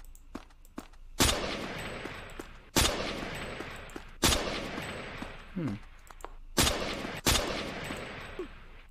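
Gunfire from a weapon in the Crossroads Warfare alpha video game: about six loud, single shots spaced a second or two apart, each with a booming tail, over a low ambient background.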